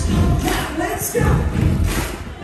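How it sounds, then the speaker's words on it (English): At an 80s rock glow party, a crowd stomps and claps the We Will Rock You beat, heavy rhythmic thuds repeating in a steady pattern, loud and close with some crowd noise. "stomp, stomp, clap"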